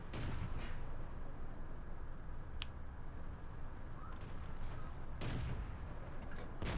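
Tank gunfire in World of Tanks from a Luchs tank battle: a few distant, muffled booms and impacts spread across a constant low engine rumble, with no talking.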